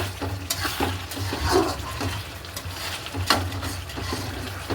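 Chicken pieces are stirred and fried in a hot wok, with repeated scraping strokes and a soft, steady sizzle that stays close and moderately loud throughout.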